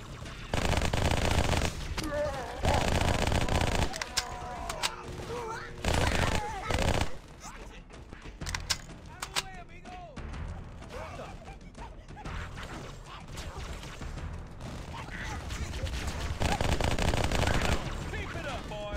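SMG gunfire in Halo CMT, a fan-made Halo mod, firing in rapid automatic bursts, loud stretches of chattering shots separated by quieter gaps with clicks and scattered game sounds, someone talking over parts.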